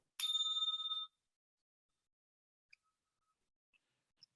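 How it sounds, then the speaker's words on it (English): A single bell rings once to open a mindfulness exercise, a bright, clear tone that fades within a second into near silence, with only faint ticks afterward. "so we're going to start with the bell"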